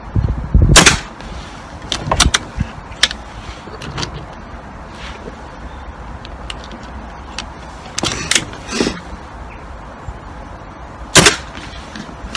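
A Kral air rifle firing Barracuda pellets, several sharp, loud cracks spaced seconds apart with quieter handling clicks between them.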